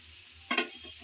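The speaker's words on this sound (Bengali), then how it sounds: "ধনেপাতা কুচি দিয়ে আবারও একটু নেড়েচেড়ে মিশিয়ে নিয়েছি" A spoon stirs okra with chopped coriander in a pan, giving one brief scraping, sizzling burst over a faint quiet background.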